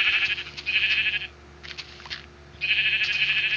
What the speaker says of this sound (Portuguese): aqui tem mais ovelha